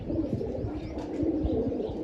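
A tumbler pigeon coos in soft, low, throaty calls repeated several times against a quiet background.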